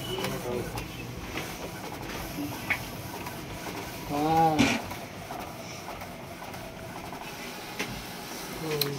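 An Epson L8050 inkjet printer works through a PVC ID card print, producing a low mechanical rumble with a brief whirring sweep of the print head midway, heard close under someone talking.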